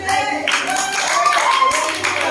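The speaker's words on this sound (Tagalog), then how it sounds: "Bigyan natin ang milyong-milyong palakpak para kay Upline Merlinda Dadap!" Audience applause at an onsite recognition event for a sales team, a dense, steady wash of clapping lasting throughout, with voices and tonal sounds mixed in over it.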